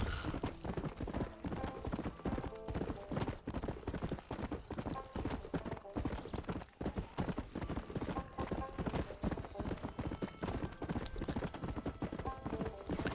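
Horse hooves clip-clop steadily across open terrain in the Red Dead Redemption video game, a continuous rhythmic trotting beat running under dense game music and ambience, with an occasional faint whinny.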